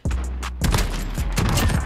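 Rapid gunfire in Modern Warfare's 2v2 Gunfight mode, with shots penetrating a wall: a dense string of loud, close, overlapping bursts that runs without a break for about two seconds.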